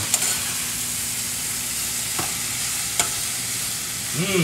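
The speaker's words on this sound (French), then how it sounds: "On va continuer à mélanger nos petits légumes" Small vegetables sautéing in a frying pan with steady sizzling and frying hiss throughout, a few sharp utensil scrapes and clicks as they are stirred, no voices.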